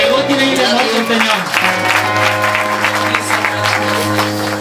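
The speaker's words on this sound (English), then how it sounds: "So let's give Pastor Pamela a hand clap." A church congregation in West Pokot applauds for a pastor, steady loud clapping from the crowd over sustained keyboard chords that keep playing throughout.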